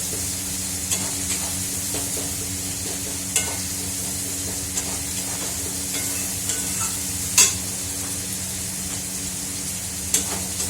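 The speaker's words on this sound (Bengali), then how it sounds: "মশলাটা কষা একটু ভালো করে কষিয়ে দিলে বেশ মাখা মাখা হয়ে গেলে ভালো লাগবে" A spice paste is sautéed and stirred in a pan, with a steady close sizzle under repeated scraping stirs and occasional sharper clinks, and no talking.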